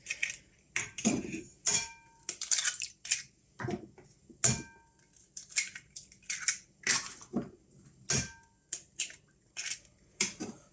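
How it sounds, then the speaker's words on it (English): Six eggs are cracked open one after another, sharp close taps and crunching shell breaks in irregular clusters with brief gaps, followed by light clinks against a bowl. "The next step is to crack open however many eggs you're planning to use."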